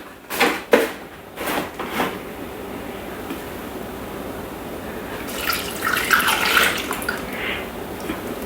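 Milk poured into a Thermomix bowl while preparing a chicken lasagna, a soft liquid stream rising midway and running steadily to the end, after a few brief clatters at the start.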